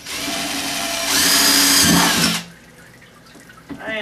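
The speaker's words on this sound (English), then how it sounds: "I am just going to drill a circle and then fill it in, sort of like a drain." A power drill with a 5/8 inch bit bores into a garden barrel, a loud whining spin that rises in pitch midway and cuts off, leaving quiet handling noise.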